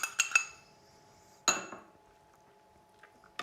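Utensil clinking against a bowl while pear, protein powder and coconut sugar are mixed for vegan French toast, with a few sharp metallic taps close up, then a louder scrape and clink, and a final tap after a quiet pause.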